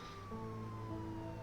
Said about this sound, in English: I can hear the fucking police sirens up down.